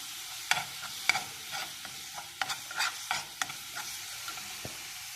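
Garlic stirred in a pan of hot olive oil, quiet sizzling punctuated by a series of sharp utensil scrapes and clicks at irregular intervals, close and fairly soft with no talking.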